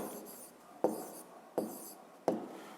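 Pen writing an answer into a math exercise notebook, three short scratchy strokes each beginning with a light tap, close and quiet.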